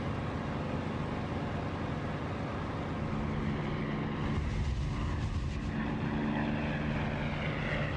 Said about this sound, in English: you get that lovely open air sound of the prop pitch wash, or the prop wash phasing effect